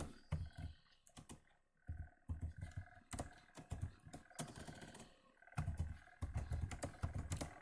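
A keyboard clattering as example sentences are typed out for an English grammar lesson, in fast uneven bursts close by, with short pauses between them.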